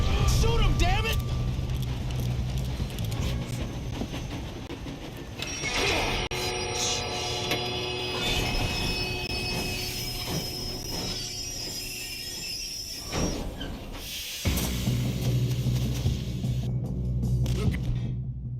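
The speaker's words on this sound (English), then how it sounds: "We have to stop this train." A train runs in Red Dead Redemption 2, a rumbling, clattering mechanical roar of wheels and cars, with shouting voices and gunfire-like bursts over it.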